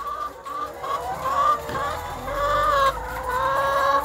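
Hens on an egg farm clucking steadily in a dense flock, with many overlapping calls close by and no talk.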